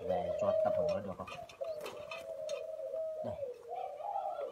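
Pigeons cooing close by, ta bon breeding pairs at a handover, a steady run of low, rolling coos with some voices talking over them.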